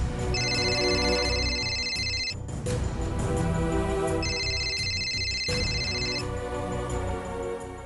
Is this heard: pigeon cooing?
no